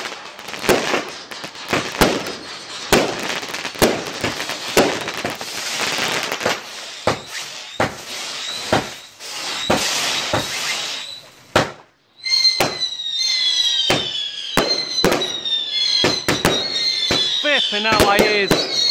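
Bonfire night fireworks burst in a rapid run of sharp bangs and crackles, then whistling rockets screech upward before more explosions; people talk and react between the blasts.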